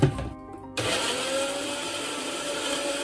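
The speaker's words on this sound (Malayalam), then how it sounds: "അപ്പോൾ ചട്നി അത്യാവശ്യം അരഞ്ഞിട്ടുണ്ട്" A mixer grinder runs loud and close, grinding coconut chutney with chilli powder and turmeric: a short sputtering start, a brief pause, then a sustained high whirring motor.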